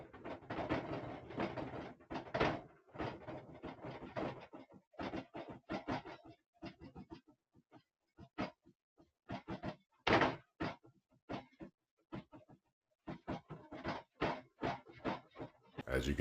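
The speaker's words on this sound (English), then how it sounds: "here's some footage from when the attic door was rattling" An attic door rattles in security camera footage, heard as irregular bursts of knocking and clattering separated by short pauses, moderately loud and fairly close.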